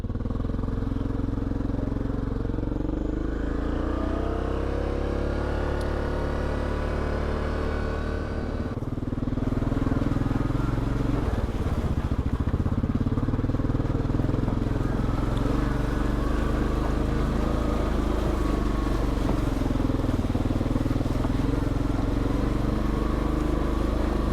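A Yamaha Grizzly 700 ATV engine drones continuously and loudly while riding on an early-spring trail, with a low steady roar that shifts slightly in pitch as the throttle changes.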